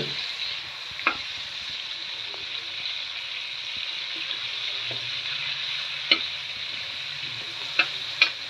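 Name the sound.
tomatoes and spices with turmeric frying in a pan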